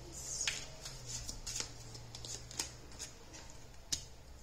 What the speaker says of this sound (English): we're going to pull some more cards